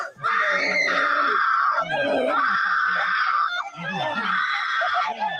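Screaming from a televised wrestling match during an arm bar, several long loud shrieks in succession with brief breaks between them, a crowd faintly underneath.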